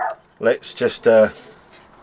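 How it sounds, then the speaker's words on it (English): A dog barks a few short times in the background while someone talks over it, during model building of a Nexa Tiger Moth aircraft. "you can hear the dog in the background saying yes,"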